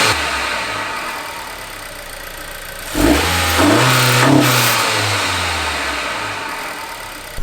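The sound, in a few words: car engine revving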